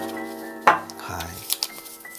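Ceramic curry plate handled on a table, giving one sharp clink followed by a few lighter knocks and scrapes, with a low background hum and some faint voice-like tones.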